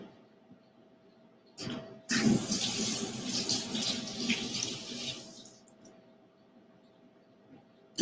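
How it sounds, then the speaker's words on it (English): Running tap water pours over hands being rinsed at a kitchen sink during avocado prep, a steady splashing rush lasting about three seconds after a brief start, then cut off to quiet. "So I'm going to rinse my hands off again."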